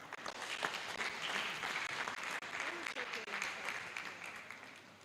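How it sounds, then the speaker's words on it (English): Applause fills a hall at an annual lecture held by the Chief Judge of the FCT High Court, a steady, moderately distant wash of many hands clapping, with faint voices mixed underneath. "Applause."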